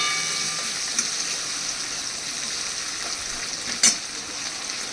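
Tomato fries in hot oil with cumin and ginger paste for a vegetable curry, making a steady, even sizzle with a couple of sharp clicks and a brief louder spatter near the end.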